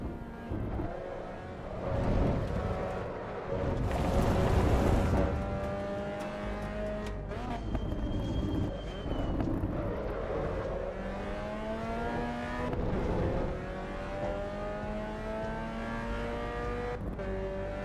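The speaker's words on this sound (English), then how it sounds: "I like the car noises and chassis noises when you go over some of these" Race car engines rev and shift through the gears in the Assetto Corsa EVO racing game, with rising and falling engine tones, passing cars and chassis rattles over rough sections, moderately loud throughout without talk.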